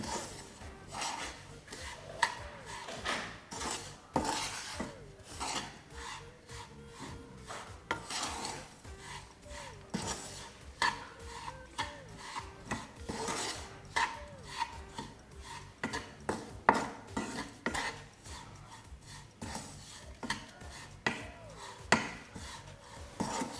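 Sugar mixture for barfi being stirred and mixed in a pan, with continuous scraping and rasping strokes of a utensil against the metal and frequent sharp clinks, close and busy throughout with no talk.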